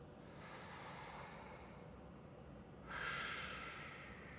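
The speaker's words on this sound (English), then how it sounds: "Just breathing into that belly." Slow, deep belly breaths drawn in and let out during a guided relaxation, two long breathy swells close to the mic with a soft hiss and no talking.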